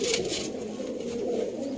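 Sialkoti pigeons coo in a soft, low, continuous murmur close by, the burbling calls running together without a break and no voices over them.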